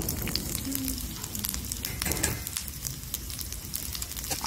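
Masala spices dry-roast in a pan until turning pink, giving a soft, steady sizzle with faint crackling and scraping at close range, fairly quiet and without talk.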